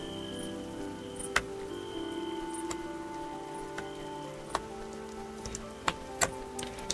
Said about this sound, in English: Oh, that's right, it's raining now.